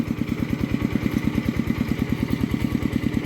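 An old farm tractor, owned for over twenty years, runs close by in a rice-field setting. Its engine gives a loud, steady, rapid thumping idle with a clattering edge, and there is no talk over it.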